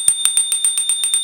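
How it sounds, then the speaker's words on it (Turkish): The bell on the left brake lever of a Gotrax G3 electric scooter rings in a quick, even series of about eight bright metallic dings. The strikes are close and loud, with no other sounds. "Sol taraftaki manetin üstünde de bir tane zil yer alıyor."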